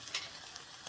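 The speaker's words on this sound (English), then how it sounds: "Then we stir." Short scrapes and a soft sizzle as pilau is stirred in a pot, faint and close, with a couple of brief spoon strokes and no talking.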